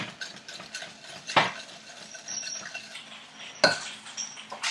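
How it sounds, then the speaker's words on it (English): Butter, brown sugar and white sugar being stirred together for cookies, a close scraping and clinking of a utensil against a bowl with a couple of louder knocks, steady and without talk. "we're gonna mix these 3 ingredients together"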